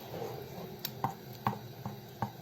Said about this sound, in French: Là, je mélange bien.